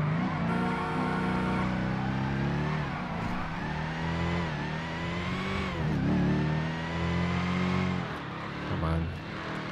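A Dodge Hellcat Redeye in GTA 5 revving hard, its engine note climbing and dropping through repeated gear pulls, loud and steady, with a voice talking over it at times.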